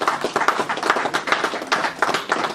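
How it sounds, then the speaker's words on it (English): An event audience claps in appreciation, a steady patter of many hands at moderate loudness with no talking over it. "Can I ask that you just stand up and we show appreciation to you by clapping?"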